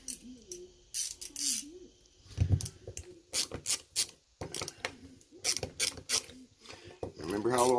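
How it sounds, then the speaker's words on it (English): A ratchet fitted with a 5/16 deep well socket clicks in short bursts of quick pawl clicks up close, mixed with rubbing and metal handling on a Briggs and Stratton opposed twin 18hp engine. "So you are going to need a 5/16 deep well socket"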